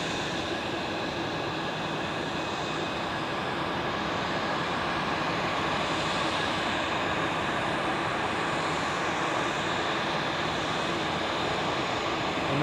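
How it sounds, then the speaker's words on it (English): A Qatar Airways A350 taxis toward runway 28 at Zurich Airport, its engines giving a steady, moderately distant broadband roar that holds unbroken throughout with no voices. "this Qatar A350, taxiing to runway 28 as expected"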